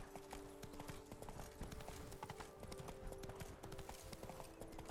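Horse hooves clip-clop steadily at a gallop in The Witcher 3: Blood and Wine, a continuous rapid beat at moderate level with faint game ambience behind it.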